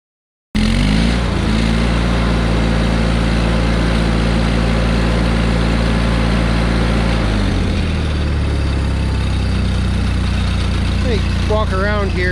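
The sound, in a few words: John Deere 318 lawn tractor engine revving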